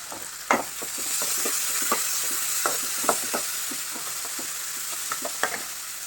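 Green chilies and soaked moong dal sauté in a pan for a festival snack, with a steady frying sizzle throughout and repeated scrapes and clicks of stirring, close by and with no talking.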